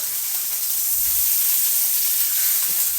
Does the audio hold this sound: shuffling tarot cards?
no